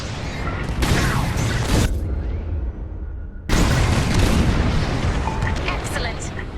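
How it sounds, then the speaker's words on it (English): Bombs exploding during a bombing run in the space combat game Star Wars Squadrons, two loud broadband blasts with rumbling tails, the second one sustained and layered with in-game battle noise. "On my mark. It's bombs away."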